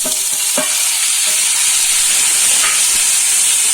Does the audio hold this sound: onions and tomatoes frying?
yes